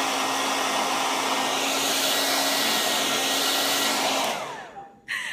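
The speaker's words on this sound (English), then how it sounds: "you can use another heat source such as a hair dryer" A hair dryer roars in a steady, loud, broadband blast that holds for several seconds, then winds down and cuts off, with a brief click at the end.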